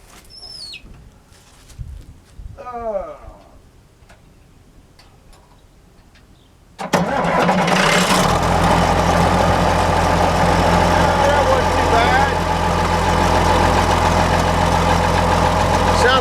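A tractor engine cranks and catches with a sudden roar, then settles into a loud steady idle that runs on; faint chirps are heard before it starts.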